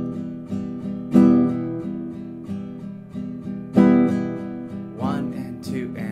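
Acoustic guitar strummed close up in a steady pattern with an accented third beat, two notably louder strums standing out among lighter even strokes, played alone.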